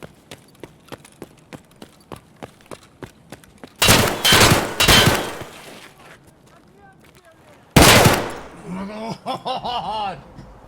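Enemy gunfire in the shooter game Escape From Tarkov: bursts of loud, close automatic shots in two clusters, preceded by a run of soft rhythmic footstep-like taps and followed by a clattering, warbling aftermath.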